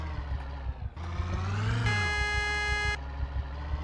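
Car engine and horn in the Project Zomboid zombie survival game, a steady low engine drone with a sustained tonal honk in the middle, loud and close.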